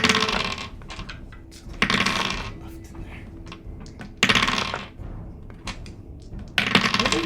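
Dice roll during a tabletop role-playing game, heard as bursts of clattering rattles over steady background noise and room murmur, recurring at irregular intervals.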